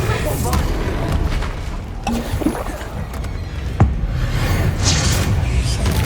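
Bombarda and Confringo spell explosions in Hogwarts Legacy, a few deep booms and sharp blasts scattered over a rumbling game background, with a voice calling out over them.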